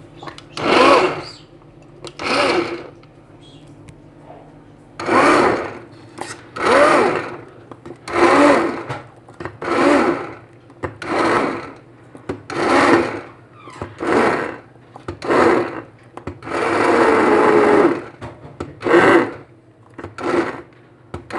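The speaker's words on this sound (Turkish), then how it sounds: "Blender'dan geçeceğim." Blender pureeing lentil soup made with meat broth for babies of 8 to 9 months, running in repeated short pulses of about a second each with brief pauses between, a steady whirring buzz close by and no talk.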